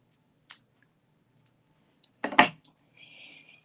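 Scissors snip through paper owl tails for a handmade card, a faint tick then a close pair of crisp cuts followed by a soft rustle of paper, in a quiet room.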